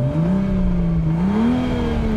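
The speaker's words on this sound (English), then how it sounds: "you can hear it starts up with that typical straight six snarl" A 2023 Toyota GR Supra's straight-six engine revs steadily in sport mode, its pitch rising in a smooth snarl, close and loud with no talking.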